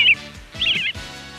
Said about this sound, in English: like the sounds the birds make